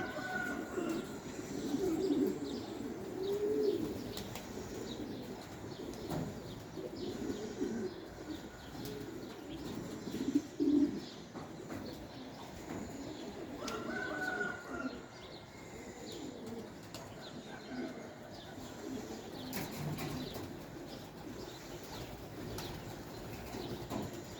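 Young pigeons flapping their wings on their first flights, with soft cooing and scattered chirps in a quiet outdoor setting and occasional bursts of wingbeats.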